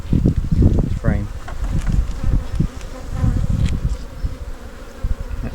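Honey bees buzzing around an open beehive during an inspection, a dense close hum of many wings with scattered louder passes, under intermittent handling sounds and a bit of talk.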